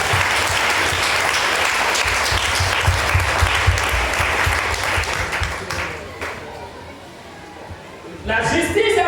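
Church congregation applauding during a French-language sermon, sustained loud clapping that fades after about six seconds before a voice resumes.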